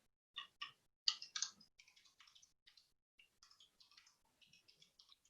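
Keys tapped on a computer keyboard during a software strategy session, a few louder strikes up front followed by a run of quick, light, uneven clicks, close and quiet with no talk.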